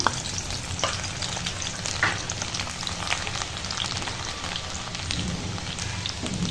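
Chopped garlic sizzles steadily in hot oil in a kadai, a dense crackling hiss with occasional stirring scrapes, close and continuous throughout, with no voices.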